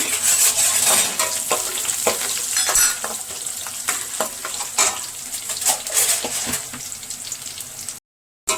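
Garlic fries in a pan for a pepper kuzhambu, giving a steady crackling sizzle broken by the scrape and clatter of a spoon stirring, close up and fairly quiet, ending with a brief cut to silence.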